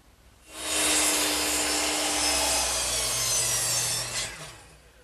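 A hand saw cuts through wood molding held against a guide strip, giving a steady, loud rasping stroke that runs for about four seconds before tapering off, with no talk over it.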